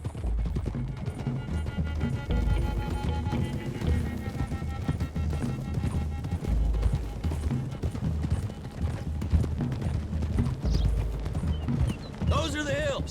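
Horses galloping in Red Dead Redemption 2, a continuous rumble of many hooves running on a trail under background game sound, with voices speaking over it.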